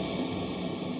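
Clean electric guitar tone played dry without reverb, a brief steady sustained note cluster filling one second at moderate level, no voices.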